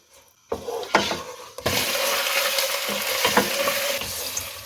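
Half a kilo of chicken with ginger-garlic paste and spring onion hits a hot pan after a quiet start, then sizzles loudly and steadily with a few sharp utensil knocks while being stirred.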